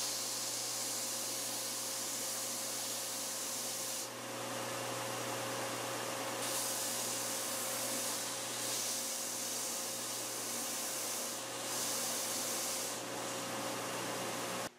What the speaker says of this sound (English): The edge sander is used to square the edges and do a final cleanup on the glue joint.